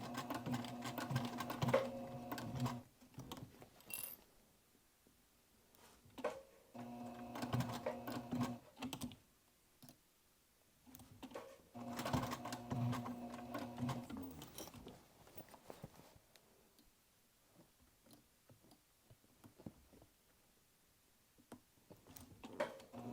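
A sewing machine stitches close along the edge of a dual-zip crossbody bag in three separate bursts of rapid mechanical whirring, each several seconds long, with quiet pauses between them while the fabric is pivoted.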